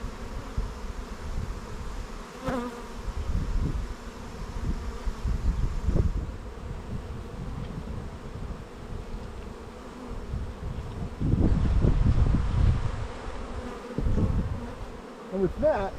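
Honey bees swarm around an open hive box during a comb-cleaning inspection, a dense continuous buzz close by with louder surges of wingbeat drone, plus occasional bumps and handling noises.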